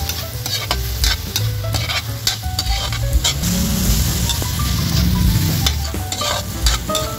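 Chopped tomatoes sizzle and fry with onions in a hot pan while being stirred for Filipino chicken afritada, a steady loud crackle with scraping spatula strokes throughout.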